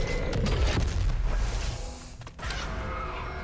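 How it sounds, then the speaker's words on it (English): A rocket launcher fires in DOOM Eternal: loud booming blasts with a rumbling low end fill the moment, dipping briefly before another heavy boom trails off. "Oh, I didn't realize I had my rocket launcher."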